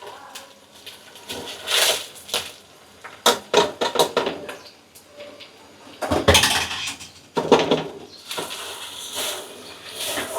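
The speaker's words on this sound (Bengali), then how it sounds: "আমি এখন আগে থেকে ধুয়ে রাখা চালগুলো দিয়ে দিচ্ছি।" Pre-washed rice poured into a pot for pulao, giving scattered bursts of grainy clatter and clinks against the pot at close range, with quiet gaps between pours.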